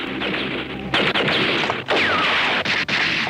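Loud, dense bursts of rapid gunfire crackle continuously, with brief dips between volleys, close and harsh.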